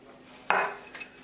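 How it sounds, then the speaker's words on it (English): Biscuit crumbs tipped into a springform pan while making a banoffee pie: one short rustling clatter that tails off, then a faint second brush, close and quiet with no talk. "Now I'm going to take my crumbs and I'm going to put them into my springform pan."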